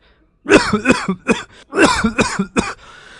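A series of harsh, hacking coughs in quick bursts, close and loud, with a brief throat-clearing rasp between them.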